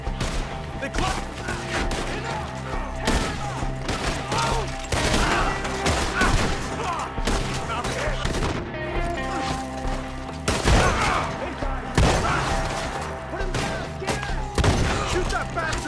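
A shootout in the video game Red Dead Redemption 2, with dense bursts of gunfire cracking throughout amid shouting voices and background music, loud and continuous over several seconds.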